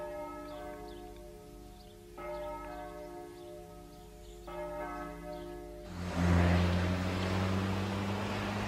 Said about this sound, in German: samstags die Glocken wohl auch woanders. Aber am Niederrhein klingen sie metaphysisch.